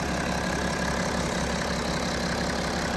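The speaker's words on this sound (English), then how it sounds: "You can hear the engine running nice and smoothly." A BMW 335d xDrive M Sport Touring diesel idles steadily close by, a constant low rumble with no variation in level.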